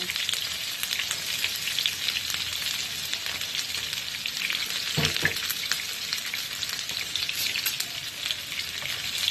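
Green chilli and onion sizzling in a pan for a guchi fish curry, a steady, moderately quiet frying hiss with occasional crackles and a brief stir partway through, with no talk.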